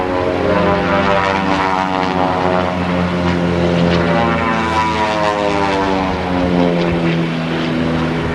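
Propeller aerobatic airplanes fly in formation at the 1986 Daytona Beach Skyfest air show, making a loud, continuous droning engine roar with shifting pitch as they pass.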